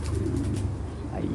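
A racing pigeon gives a brief, low, close cooing call over a soft background murmur.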